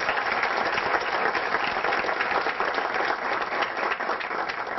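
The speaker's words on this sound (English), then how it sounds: "this is the time when you can actually clap" Steady, dense applause from a conference audience after a technical talk on JAX-RS 2.0 RESTful web services at Codemotion, filling the whole stretch at an even level.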